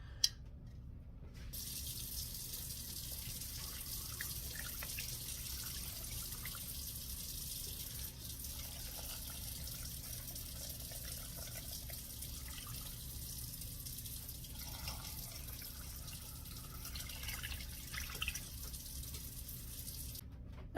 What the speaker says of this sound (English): I'm going to cover this with water